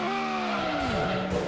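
Race car engine in Grand Prix II at Interlagos whining as it spins out, the engine pitch sliding downward while tyres scrub, close and loud, then steadying at a lower drone.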